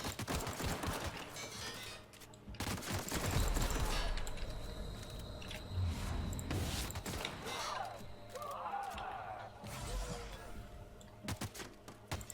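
Pistol shots in The Outer Worlds video game: a few sharp, loud cracks spread across the stretch, mixed with other game combat noise and effects.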